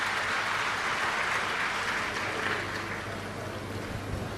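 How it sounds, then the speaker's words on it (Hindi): An audience at a Hindu religious gathering for a Shiv Mahapuran recitation claps loudly and steadily to welcome the host family, a dense, even wash of applause with no talking. "एक बार यजमान परिवार के लिए जोरदार ताली बजाकर सभी का स्वागत"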